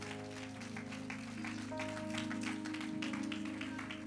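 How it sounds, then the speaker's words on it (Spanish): Church congregation applause for the Lord, scattered clapping mixed with sustained organ or keyboard chords at moderate volume. "And give an applause to the Lord."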